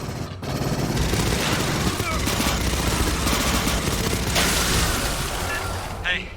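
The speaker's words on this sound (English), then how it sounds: "I heard gunfire." Dense, continuous gunfire and explosions from the sci-fi shooter Aliens: Fireteam Elite, fast bursts layered over a busy battle soundscape with heavy low booms, loud throughout, with voices talking over it at points.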